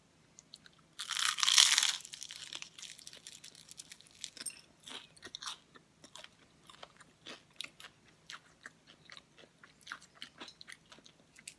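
Someone bites into a reheated egg tart, a loud crunchy bite near the start followed by many small, close chewing and crumbling sounds, with no talking.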